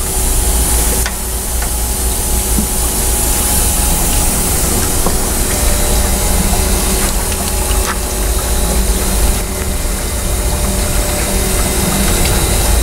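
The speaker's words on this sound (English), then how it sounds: "I'm going to open the discharge cone now" Press liquor pours out of a half-full industrial tank through its opened discharge cone, a loud, continuous rushing hiss and gush with a steady low rumble of pump noise underneath, unbroken for the whole stretch.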